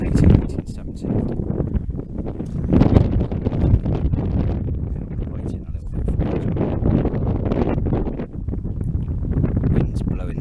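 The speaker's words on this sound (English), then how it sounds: "Wind's blowing this camera." Strong wind buffets the camera microphone outdoors, a steady low roaring rumble with gusty swells that run throughout and partly mask the background.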